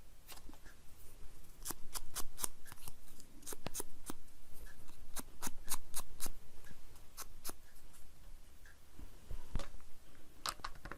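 Scissors snipping paper while fussy-cutting a daisy shape, a series of sharp close clicks at an uneven pace over a quiet background, no voices.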